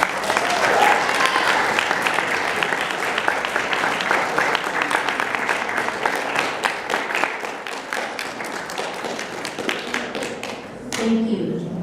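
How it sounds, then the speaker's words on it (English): Sustained applause from an audience honoring members of the Klamath Tribal Youth Council at an Indigenous Peoples' Day gathering; dense steady clapping that thins out toward the end, followed by a brief voice. "You guys give them a round of applause."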